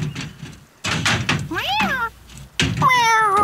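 A cat meows twice, with short rising and falling cries, close and fairly loud amid some shuffling noise.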